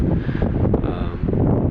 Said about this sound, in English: I hope the wind doesn't mess up my mic too much.